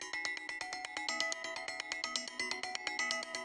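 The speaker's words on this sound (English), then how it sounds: "Then we have this cool bell type loop" Looped bell-like electronic pattern from a dance track, a steady, rapid stream of bright metallic chiming notes repeating in an even rhythm, alone and moderately loud.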